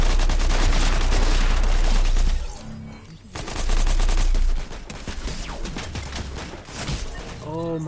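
Rapid Fortnite gunfire rattles in loud bursts of automatic fire, with a short lull midway before shooting resumes, and brief talk underneath.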